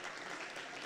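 Audience applause at an anniversary symposium of a journalists' association in Ghana, a brief, steady wash of clapping from a crowd that fills the room evenly from start to finish.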